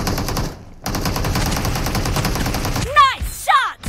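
Automatic gunfire in a video game team deathmatch, loud rapid bursts of shots with a brief pause, followed by voices talking over the action near the end.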